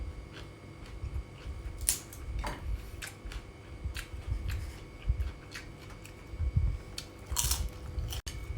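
Steamed crab being chewed and bitten into up close, with intermittent crunchy cracks and wet chewing at an irregular pace, steady and fairly quiet, with no talking.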